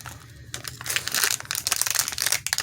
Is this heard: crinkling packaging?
yes